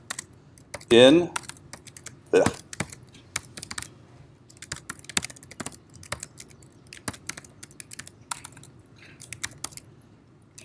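Typing on a computer keyboard while coding a binary tree method: rapid, uneven clusters of close key clicks throughout, with a brief spoken word near the start.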